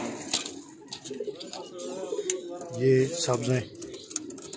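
Breeding pairs of colorful Laal Zard Adwaar Chap pigeons coo in a loft. Their soft, low calls rise in short bursts beneath someone speaking in Hindi.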